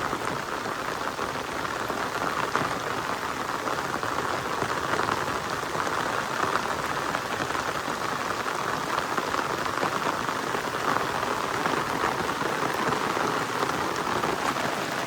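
Heavy, continuous rain pours steadily onto surfaces, a dense unbroken hiss of drops close by with no voices.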